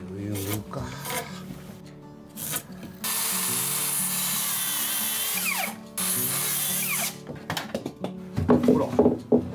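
Timber being cut by hand on site to fit during a house extension build, two long steady rasping passes of saw or tool on wood, close and loud, with brief talk and knocks before and after.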